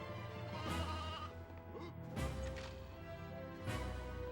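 Sheep in the Toy Story 2 video game bleat three times at roughly even intervals, each a wavering, nasal call over a soft in-game background.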